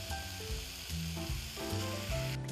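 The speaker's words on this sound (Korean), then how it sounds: "마늘 향이 올라오기 시작하면 양파와 베이컨을 같이 넣어서 볶아주세요." Onions and bacon stir-frying in a hot pan with garlic, a loud continuous sizzle with crackling bursts and shifting tones as the pan is stirred.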